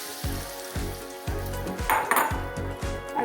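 Red banana pieces frying in hot ghee in a pan, a soft sizzle broken by repeated rhythmic scraping or mashing strokes and a brief clatter midway.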